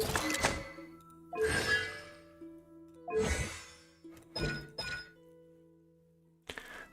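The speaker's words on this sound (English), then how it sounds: "Une bombe à gel qui explose à l'impact." Frost bomb bursts in Genshin Impact, a series of sharp glassy shattering impacts with icy clinking tails, five bursts spaced irregularly over a low steady game hum, plus a final clipped hit.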